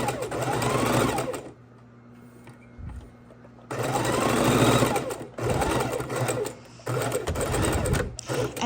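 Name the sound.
sewing machine stitching a quarter inch seam on drink coaster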